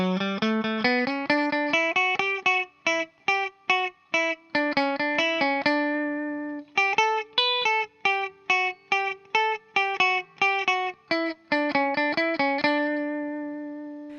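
A distorted electric guitar plays a quick riff of rapid even sixteenth notes, bright and clean-cut, with a brief pause midway before the pattern resumes.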